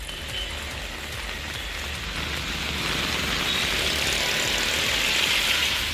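Heavy thunderstorm rain pours over villages around Pudukkottai in Tamil Nadu as a dense, steady hiss that swells slightly louder, with a faint low engine-like rumble beneath and no voices.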